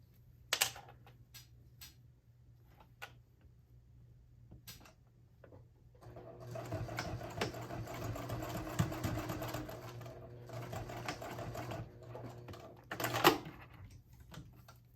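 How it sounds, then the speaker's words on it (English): A sewing machine top stitches a color block wristlet, running in a steady rapid whir for several seconds after a few scattered clicks and handling taps, close and alone without talk. "you're going to take it to the machine and you're going to top stitch about 1/8 of an inch"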